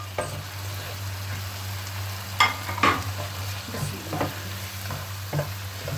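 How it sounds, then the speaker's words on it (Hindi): Potatoes frying in a pan for mixed vegetable sabzi, a steady sizzle under a low hum, broken by spoon scrapes and clanks as they are stirred. "पहले हम डालते हैं इसमें आलू।"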